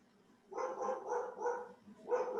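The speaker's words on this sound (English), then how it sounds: "dog made my dog bark, and my dog never barks." A dog barking four or five times in a loose rhythm, fairly close and clear against a quiet indoor background with no talk.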